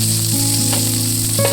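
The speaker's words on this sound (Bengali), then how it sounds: "কড়াইয়ের মধ্যে সামান্য সর্ষের তেল দিয়ে ভেজে নিতে হবে উচ্ছেগুলো" Peeled bitter gourd pieces frying in a little mustard oil in a wok, giving a loud, steady close sizzle with a constant hum underneath.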